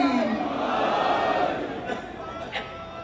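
A large crowd at an imambargah in Malir, Karachi, chants Naara-e-Haidari slogans in a loud, swelling roar of many voices, which fades toward the end.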